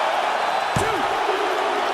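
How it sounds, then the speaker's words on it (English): A wrestler is slammed onto the mat in WWE 2K19, giving one sharp, heavy impact thud in the middle of steady crowd noise and game ambience. "Slammed with authority."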